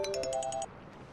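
A phone ringtone plays a quick bright run of about seven repeated electronic tones, loud and close, then stops abruptly.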